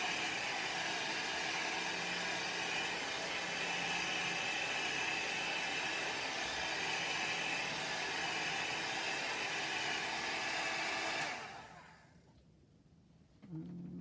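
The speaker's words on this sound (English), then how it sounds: "I'd rather use a hairdryer." Steady broadband whooshing of an appliance blowing air, loud and constant for about eleven seconds, then cutting off abruptly to near silence.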